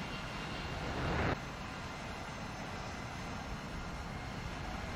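Steady broadband roar of an A-10 jet aircraft engine in the War Thunder flight game, a continuous drone held throughout with a brief louder swell near the start and no talk over it.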